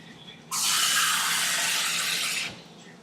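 Water from a cup pours steadily into a pot of thick, pasty homemade chili, a loud continuous rushing splash lasting about two seconds, close up, with no talking.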